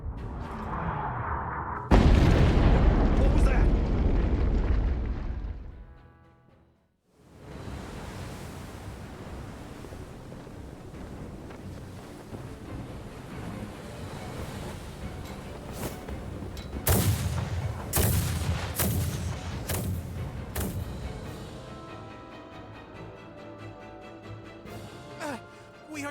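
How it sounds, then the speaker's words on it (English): Naval battalion artillery bombardment in the game Star Ocean The Divine Force erupts in a heavy blast, then a dip and a long rumbling wash, with further sharp booms and crackling impacts later on. "Their unceasing bombardment is laying waste to our forces."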